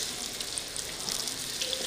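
Onions frying in hot oil with a little ghee, giving a steady, even sizzle with a soft crackle throughout, close and fairly quiet, with no voices.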